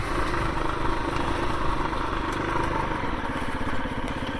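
A 2021 KTM 350 EXC-F four-stroke dirt bike engine runs steadily nearby, a loud, even throb with a rapid low pulse and no talking.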